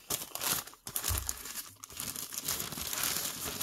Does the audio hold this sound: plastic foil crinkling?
yes